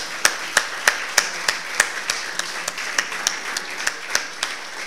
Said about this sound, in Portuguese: eu queria pedir uma grande salva de palmas